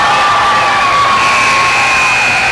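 A crowd roars and cheers at a high school basketball game, loud and sustained throughout with no break.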